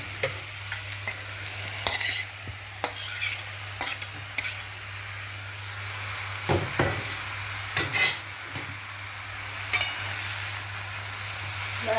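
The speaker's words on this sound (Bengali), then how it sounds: "আলু আর বাঁধাকপি ভালো করে মিলিয়ে নিচ্ছি।" Potatoes and cabbage stirred together in a hot pan for a Bengali cabbage curry, the spatula scraping and clacking against the pan in irregular strokes over a soft steady sizzle, close up with no talk.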